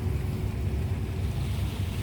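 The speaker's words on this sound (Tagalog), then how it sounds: "Grabe balod oh." Large sea waves surging onto the shore after a big ship passes, a steady loud rumbling wash mixed with wind buffeting the microphone.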